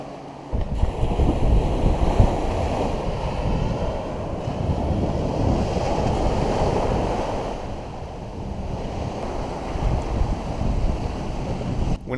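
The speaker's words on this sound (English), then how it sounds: "the beautiful sound of waves washing against the shore" Surf washing steadily against a Bahamas shore near Rock Sound Harbour, Eleuthera, a continuous broad rumbling wash with gentle swells in loudness, mixed with some wind buffeting the microphone and no talking.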